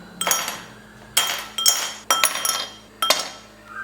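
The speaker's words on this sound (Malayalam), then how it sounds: "ഗ്ലാസ്സിലേക്ക് ഐസ് ക്യൂബ്സ് ഇടാം." Ice cubes drop into a glass one at a time while milk lemon juice is being served, making five sharp glassy clinks at irregular intervals, close and clear with no talking.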